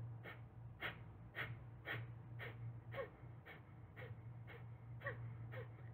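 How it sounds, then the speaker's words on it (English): Quick, forceful yoga exhales through the nose repeat at a steady rhythm of roughly two per second, each a short sharp puff of breath, close and fairly soft, with a low steady hum underneath. "We're going to do quick exhales, focusing on the exhale, letting the inhale happen."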